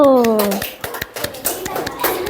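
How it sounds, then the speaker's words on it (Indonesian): A scattered patter of hand claps from a small group of schoolchildren in a classroom, uneven and close, with a voice briefly rising at the start. "Beri tepuk tangan untuk kelompok 1."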